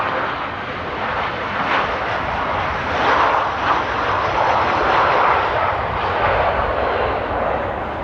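An Air Arabia airliner arriving at Amsterdam airport in windy conditions gives a steady, loud jet engine roar that swells slightly mid-way, with no talk over it.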